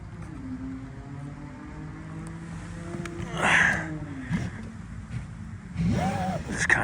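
A Genmax 7500 iAED dual-fuel inverter generator, restarted after sitting for about a month, runs with a steady low engine drone. A few brief louder surges rise over the hum partway through.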